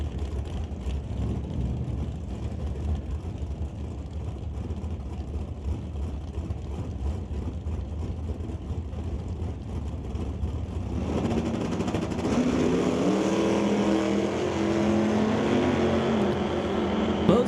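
NHRA drag racing cars run down the strip, a distant engine drone that swells into a louder, fuller roar partway through as the cars come past.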